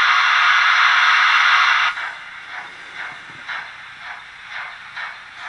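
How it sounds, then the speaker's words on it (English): Sound from a Bachmann A1 model steam locomotive: a loud, steady hiss cuts off, then quiet, evenly spaced chuffs repeat at a brisk, regular beat. "I will admit the chuff is quite quiet, but when it gets going, it's a lot louder"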